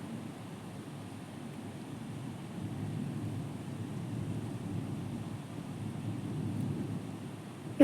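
Thunder rolls during heavy rainfall in Abu Dhabi as a low, steady rumble that swells slightly partway through, distant and muffled beneath light wind noise on the microphone, with no talk.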